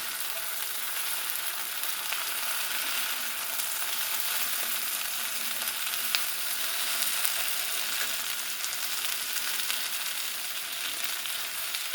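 Potatoes with onions and peppers fry in a seasoned cast iron skillet with the lid off, giving a steady, close, even sizzle that holds at one level throughout, with no one speaking.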